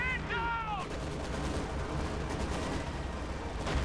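Game battle in Company of Heroes 2 with continuous dense gunfire and explosions throughout, loud and busy, a brief tonal game sound near the start and no talk.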